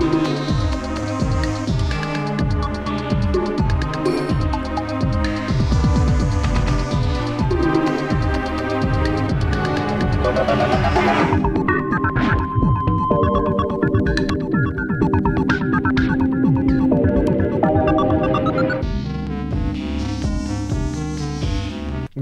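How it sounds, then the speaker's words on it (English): Ambient electronic game music from OMORI with a dense, rhythmic texture and a soft, subdued synth pad sustained underneath, the arrangement thinning and shifting midway before building again, steady and full throughout. "That very subdued synth pad right there"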